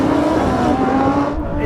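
Sports cars, a Nissan GT-R among them, launch off the line in a drag race, their engines droning loud and close in a short burst with a voice over them.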